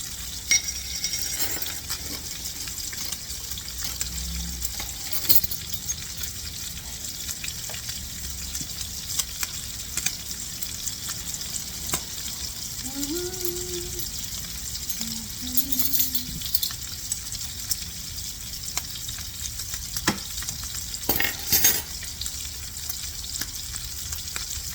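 Cumin and other tamale pie ingredients fry in a pan with a steady, soft sizzle, broken by occasional scrapes and clinks of a utensil stirring against the metal, close up and with no talking.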